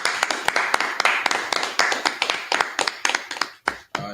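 An audience claps in a steady, even rhythm, roughly four claps per second, close and moderately loud, thinning to a few scattered claps at the end.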